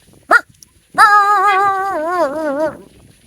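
A person imitates a dog barking: one short yelp, then a long wavering, whining howl-like bark, close and loud, with no other sounds.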